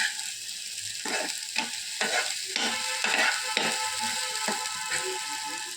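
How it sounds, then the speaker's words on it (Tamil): Chutney sautéing in a pan while a spoon stirs and scrapes it, giving soft repeated scraping strokes over a low, steady sizzle, close by and with no talking. "சட்டியில் ஒட்டாமல் பிரட்டி வர வரைக்கும் நல்லா வதக்கிட்டு"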